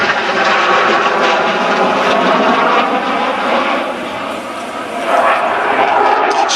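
Eurofighter Typhoon jet roaring overhead at an air show at Biggin Hill, a loud continuous broadband engine rush that swells and eases slightly, with no talk over it.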